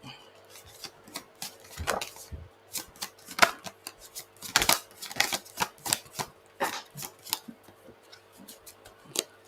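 Tarot cards shuffled by hand during a psychic reading, a run of irregular crisp riffles and soft slaps in quick clusters at close range, with no talk over them.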